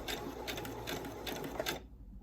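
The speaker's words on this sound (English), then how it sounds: "now I'm going to start sewing" A sewing machine runs continuously, stitching ribbon for a two-color tutu, with a steady mechanical whir at close range that stops abruptly near the end.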